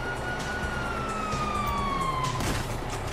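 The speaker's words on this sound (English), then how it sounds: "Hear that? Sirens!" A police siren in Grand Theft Auto V wails with a falling pitch over a dense, noisy action scene, loud and continuous for a few seconds.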